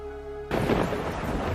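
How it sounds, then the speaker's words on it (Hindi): A sudden, loud roar of heavy rain bursts in after a quiet start, with a deep rumble like thunder underneath. "तभी तेज बारिश शुरू हो गई।"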